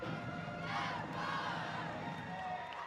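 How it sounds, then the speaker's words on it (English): A home crowd cheers and shouts at a high school football game at East Surry, a loud, steady roar of many voices that swells midway and holds throughout. "Great home crowd here at East Surry."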